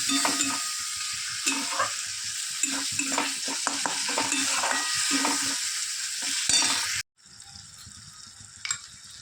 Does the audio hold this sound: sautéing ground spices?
yes